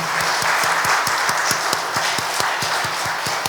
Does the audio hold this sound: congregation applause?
yes